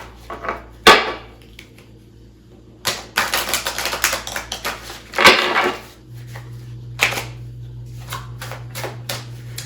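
A deck of oracle cards is shuffled by hand in several bursts of crisp riffling and tapping, close and clear, separated by quiet pauses against a low steady hum.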